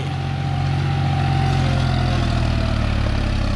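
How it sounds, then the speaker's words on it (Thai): John Deere 5045D tractor engine lugging at low revs, a steady deep diesel rumble with a constant low throb that holds on without stalling, close and loud throughout. "ในรอบต่ำเครื่องยนต์เหมือนจะดับแต่ไม่ดับนะครับ"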